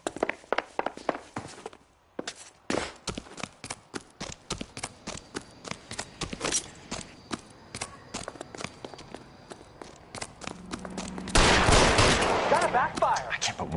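Gunfire in the video game L.A. Noire: scattered sharp shots spaced irregularly, building to a louder dense burst near the end, with footsteps and other movement between them.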